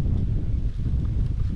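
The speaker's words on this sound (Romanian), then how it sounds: "Iar începe rafale de alea" Strong gusts of wind buffet a parked car at a fishing spot, a dense, steady low roar with rumbling surges filling the whole stretch, close and loud, with no voices.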